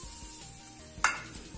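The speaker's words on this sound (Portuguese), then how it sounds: "Aí ele vai derreter um pouquinho mais de manteiga" Butter sizzling steadily as it melts in a pan for brownies, with a brief sharp clink of a utensil against the pan partway through; no talking.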